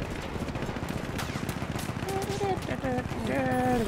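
Rapid automatic gunfire in the Battlefield 1 video game, a dense fast stream of shots throughout, with tonal game sounds rising near the end and a voice talking over it.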